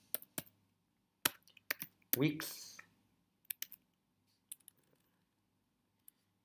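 Typing on a computer keyboard while writing a Wix Velo search-bar import line, heard as scattered sharp key clicks in irregular bursts with a brief voice in the middle, otherwise quiet.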